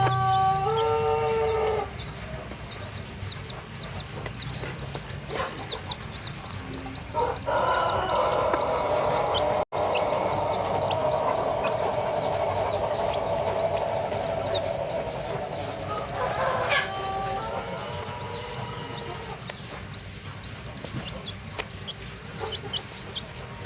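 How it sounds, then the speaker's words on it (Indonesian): Village chickens of kampung stock crossed with a Bangkok rooster cluck near the microphone while their chicks peep at a farm. Bursts of clucking and brief crowing-like calls come and go over steady outdoor background. "Ini dulu ini ayam kampung keturunan si jantannya ayam Bangkok ya"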